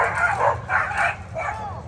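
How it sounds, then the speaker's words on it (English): Dogs barking at a neighbor dog: three rough, medium-loud barks spaced about half a second apart, over a low rumbling background. "My dogs see the neighbor dog"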